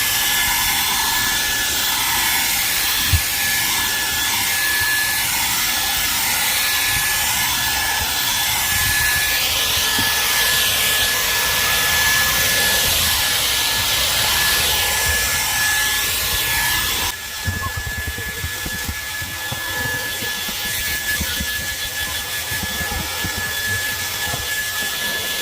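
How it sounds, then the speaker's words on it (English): A LEVOIT LVAC-200 cordless stick vacuum runs while cleaning out a car interior, a loud steady high-pitched whine with a brief bump and a drop in tone partway through as the tool shifts. "We're going to be cleaning out my car right there and just testing the suction and the tools that come along with it."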